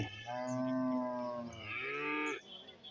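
Young calves at a cattle market moo loudly in two long, drawn-out calls, each a sustained tonal bellow with a rising and falling pitch, close by with little background noise.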